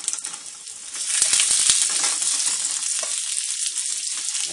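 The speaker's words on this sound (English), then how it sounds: "Start to fry it up." Tallow, beef fat, frying in a pan with a bright, steady sizzle that swells after a second and then holds, close and fairly loud with a few crackling pops.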